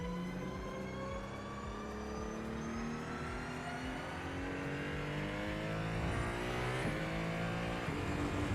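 A race car engine in the sim racing game iRacing, revving and climbing through gears with steady high-pitched whine and tyre noise, continuous and moderately loud for the whole stretch, no talk.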